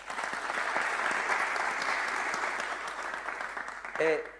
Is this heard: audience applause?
yes